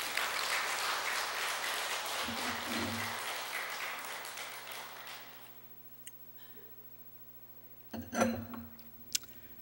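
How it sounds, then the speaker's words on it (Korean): Applause from an audience at a Buddhist temple talk, a dense sustained clapping that fills the first few seconds and then fades away, followed by quiet room tone with a couple of isolated knocks and a brief rustle near the end. "또 이런 대목에서도 박수를 한번 쳐주셔야지."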